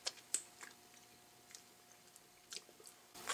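Quiet, close mouth sounds of someone tasting homemade mac and cheese, with soft wet chewing clicks and smacks scattered irregularly over a faint hum.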